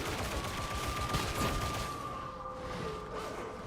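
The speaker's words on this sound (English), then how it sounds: "Who's firing on me?" Gunfire from pox gunners in a Warhammer video game, a dense, continuous rattle of rapid shots under a sustained tone, moderately loud and unbroken, with no talking.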